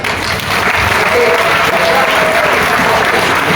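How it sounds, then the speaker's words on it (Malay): Steady, dense applause from an audience at a Negeri Sembilan association gathering, loud and continuous throughout with no break. "beri tepukan lagi sekali gemuruh kepada beliau"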